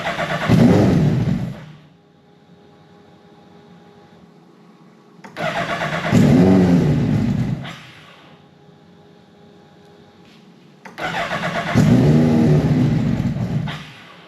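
A restored car's engine, troubled by an oil leak, cranks and fires up three times, each time catching with a loud burst and brief rev before dying back to a low hum, near and with no talking.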